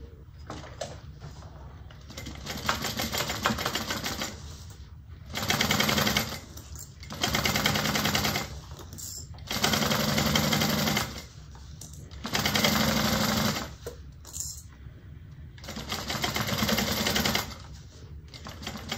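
A sewing machine stitches a quarter-inch seam on a Joseph Bag in about six bursts of whirring, stopping and restarting between runs, close and clear with no talk.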